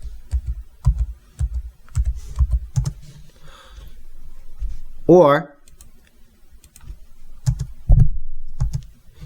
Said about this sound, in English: Notice as how I type in the name on the location entry window